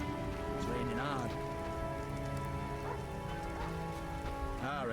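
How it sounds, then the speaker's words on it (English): Heavy rain falls in The Witcher video game as a dense, steady hiss, with warbling musical tones rising over it. "It's raining hard."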